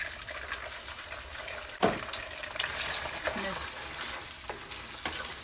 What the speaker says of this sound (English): So now I'm just gonna put in my 3 eggs.